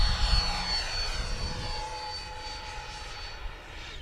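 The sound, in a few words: Freewing F-18 90mm RC jet flying past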